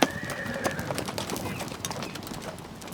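An Icelandic horse, a medium-sized breed between pony and full horse, gives a short whinny at the start, followed by bird cooing, scattered hoof clicks and outdoor noise.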